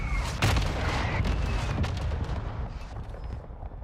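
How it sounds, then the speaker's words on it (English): Mortar strike explosions in the video game Call of Duty: Modern Warfare 2, a dense barrage of loud booms and blasts rolling over one another, with a heavy hit near the start before fading slightly. "Hostile mortar strike incoming."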